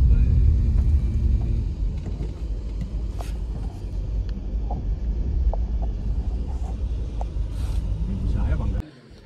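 A car engine rumbles low and steady up close as the car is parked, with indistinct voices, then the sound cuts off abruptly near the end.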